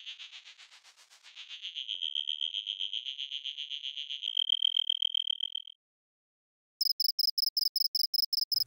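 Synthesized cricket chirp built in Absynth, Massive and Alchemy software synths: a sustained trilling, pulsing tone for about six seconds, a brief silence, then a quick, even run of about ten short, sharp chirps.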